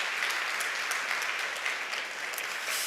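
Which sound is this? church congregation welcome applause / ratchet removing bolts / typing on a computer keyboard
church congregation welcome applause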